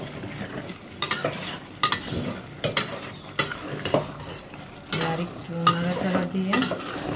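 Rohu fish head masala being stirred in a pan, with repeated scraping and clattering strokes over a soft sizzle, each stroke short and distinct, at close range.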